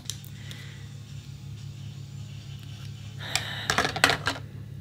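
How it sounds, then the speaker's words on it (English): A truck idles in a neighbor's driveway, a steady low engine drone running continuously throughout, with a few sharp clinks and clatters nearby near the end. "We got the guy with the truck next door, just sitting in his driveway for hours."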